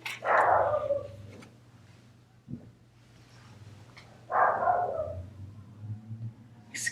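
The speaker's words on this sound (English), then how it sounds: "Excuse all the extra barking." A dog barks in two loud, close bursts of several quick barks each, separated by a quieter stretch with faint background noise.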